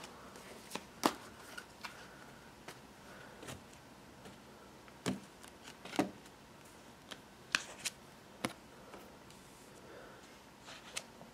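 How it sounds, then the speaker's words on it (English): Tarot cards are shuffled quietly up close, soft riffling broken by scattered sharp taps and snaps at irregular intervals. "shuffling the cards"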